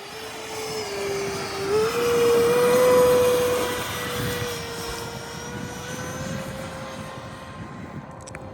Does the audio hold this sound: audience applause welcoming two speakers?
no